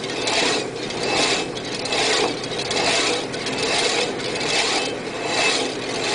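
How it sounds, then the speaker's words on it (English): Hacksaw cutting a parting groove in metal turning on a lathe, steady rhythmic back-and-forth rasping strokes about once per second, loud and close with no talk. "The hacksaw, that's my real parting tool."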